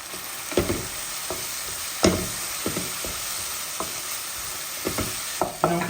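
A spoon scrapes and clacks repeatedly against a pan while curry with garam masala, turmeric and salt is mixed over a soft, constant sizzle, heard up close.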